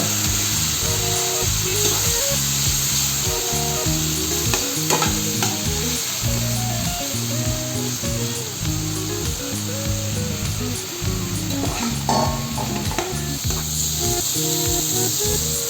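Fried potatoes are stirred in spice masala with a splash of water in a pan for a pumpkin-seed kofta curry: constant sizzling with a steady rhythm of close, scraping strokes and no talking.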